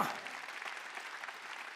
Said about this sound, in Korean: 박수 치라 이게.